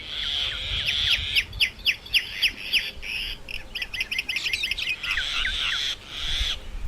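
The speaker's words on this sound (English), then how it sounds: "This is what a minor bird sounds like." Myna birds call outside a window, a loud run of rapid, repeated whistles and chattering squawks with shifting rhythm, close and clear, with no talking.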